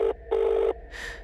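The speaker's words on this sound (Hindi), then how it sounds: "अपनी सैलरी कटने के डर से थिरोज ने हार मानकर आखिरी बार उस नंबर पर डायल किया।" A telephone number is dialed: two steady electronic tones, a short one and then a longer one, followed by a brighter, hissy tone, all close and clear with no voices.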